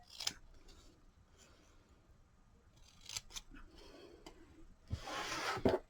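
Scissors make small cuts in die-cut paper, a few quiet close snips separated by short pauses.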